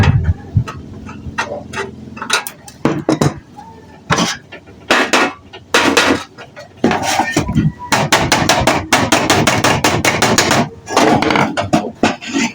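A hammer strikes a scrap galvanized iron sheet in repeated sharp metallic bangs, some single and some in rapid bursts, loud and close, with brief pauses between the runs.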